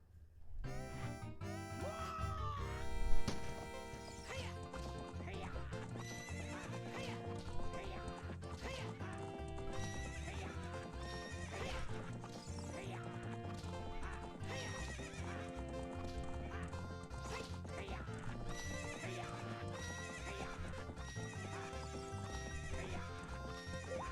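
Horse neighing and galloping in The Legend of Zelda: Ocarina of Time, a whinny near the start followed by steady clip-clop hoofbeats under continuous game music.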